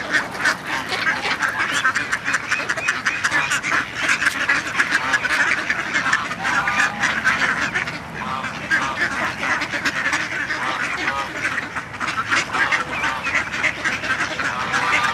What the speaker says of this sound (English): There's a bunch of mallard chicks.